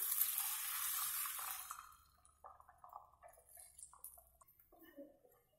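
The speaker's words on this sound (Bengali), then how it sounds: "তেলের মধ্যে আমি ডিমটা দিয়ে দিচ্ছি ভাজার জন্য" An egg drops into a teaspoon of hot oil in a frying pan and sets off a bright sizzle that quickly dies away after about two seconds, leaving faint scattered pops and clinks.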